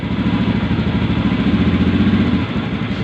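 A Honda Beat FI ESP motorcycle engine with an overheating and stalling fault runs with a steady, throbbing chug close by as the throttle is opened, then eases off briefly near the end.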